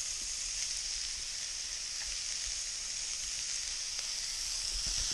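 Vegetables and celery cook down in oil in a pan over lowered heat, giving a steady, even sizzle and hiss that holds at one level, close and alone.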